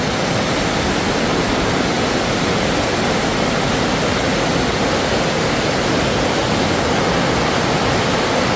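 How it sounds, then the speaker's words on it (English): A stream running through Rio Frio Cave gives off a steady, loud, broadband rush of water that holds unbroken throughout, with no voices or other sounds over it. "Got the water running down there. That's where the stream actually runs through the cave."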